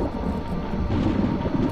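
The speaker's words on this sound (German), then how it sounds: "Das Gewitter ist ja heftig." Heavy thunderstorm ambience in the video game Pineview Drive, a continuous low rumble of thunder with rain wash, steady and loud with no talking.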